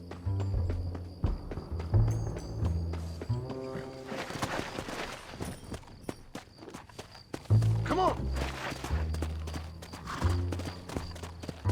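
Horse hooves clip-clop in Red Dead Redemption, a steady walking rhythm of hoof falls on the ground through the clip, joined by game sounds and brief tonal bursts.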